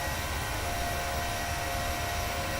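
A PMDG 737 airliner climbs away after takeoff from Dublin in Microsoft Flight Simulator, a steady, even roar of engine and wind noise with faint tonal whine and no talking.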